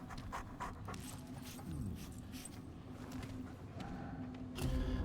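A dog in the video game Remnant 2 pants quietly in quick, steady breaths, faint and close, with soft rustling and a brief louder thump near the end and no talk.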